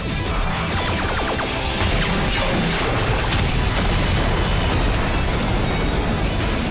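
A Beetle Cannon blast in a Power Rangers Samurai battle, a loud sustained explosive roar with crashing bursts and crackling debris filling the whole moment.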